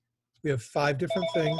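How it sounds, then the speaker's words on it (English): A cell phone rings during a math lecture, its tonal ringtone running under a lecturer's steady speech for most of the clip. "I apologize for my phone going off."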